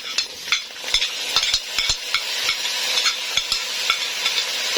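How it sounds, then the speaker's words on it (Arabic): A spoon stirs rice mixed with golden toasted vermicelli in a pot for Egyptian koshari, making close, repeated scraping strokes over a soft sizzle. "وهنقعد نقلب كده"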